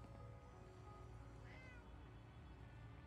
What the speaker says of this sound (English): Here, kitty.